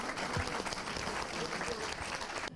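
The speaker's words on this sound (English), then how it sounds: "can we give Jake a big round of applause, please?" Audience applause fills a hall for the men's lightweight division champion at the International Open Black Belt Championships, a steady, dense roar of clapping that cuts off abruptly near the end, with a few voices mixed in.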